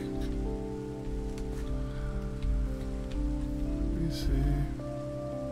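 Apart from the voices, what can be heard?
rain falling in a video game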